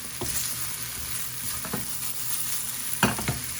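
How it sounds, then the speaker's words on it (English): Diced potatoes, peppers and onions fry in a pan as a spatula pushes them around, a steady sizzle broken by scraping strokes and a louder clack near the end, close and without talk. "Keep it moving around, make sure it doesn't stick"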